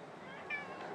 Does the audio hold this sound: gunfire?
no